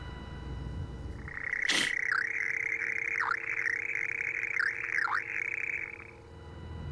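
Radio in the Signalis video game giving off a chittering, cricket-like electronic warble: a sustained high tone with repeated dipping chirps, opened by one sharp click.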